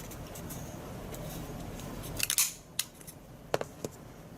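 A corner rounder punch trims a paper corner with a few crisp, sharp clicks close to the mic, heard alone over a low background hiss.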